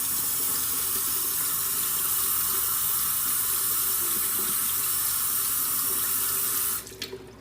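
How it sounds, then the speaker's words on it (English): Steady rush of running tap water pouring into a kitchen sink while hands are washed, loud and close, cutting off near the end with a few drips and splashes. "make sure you wash them."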